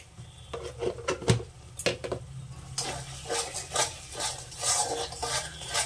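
A spoon scrapes and knocks in a pan while spice masala with turmeric and sugar fries for potato-paneer dalna. A few sharp utensil clinks come first, then a steady hissing sizzle with repeated stirring strokes.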